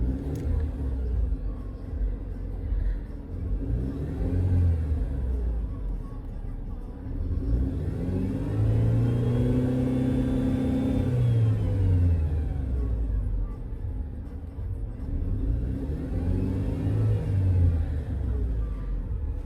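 A Mercedes C180 W203 engine revving up and down in repeated swells as it accelerates, a deep rumbling drone rising and falling in pitch several times, heard close and steady without talking.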